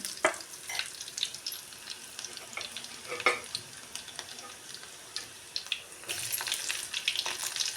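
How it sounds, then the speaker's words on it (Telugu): A village-style tadka of spices sizzles in hot oil while a spoon stirs, with scraping and clinking over a soft, continuous frying hiss. The sizzle grows louder near the end, and no one speaks. "వాళ్ళ పద్ధతిలో అయితే తాలింపు అయితే పెడుతున్నాను నేను."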